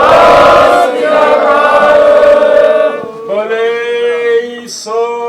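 A group of Sikh men at a press conference shouts the jaikara response in unison, a loud sustained chant that breaks off and returns in a second burst.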